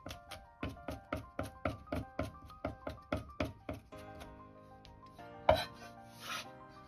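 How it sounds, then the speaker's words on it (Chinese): Ginger and garlic chopped with a knife on a cutting board: a steady run of about a dozen sharp, evenly spaced chops, close and clear, then a pause and a single heavier smack. "生姜1块，大蒜2颗，先拍破后再剁碎"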